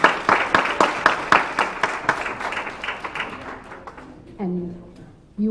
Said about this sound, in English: I'd like for all of us to give our speakers a round of applause